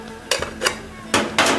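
Several sharp metallic clanks of a lid on a pot of Thai morning glory curry, four quick knocks in a short burst, close and alone.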